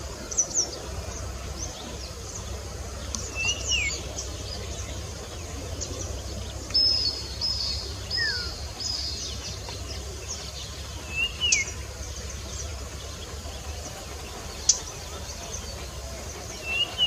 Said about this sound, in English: This bird produces several types of calls, including a single tremolo or a whistling sound with a sharp pow burst,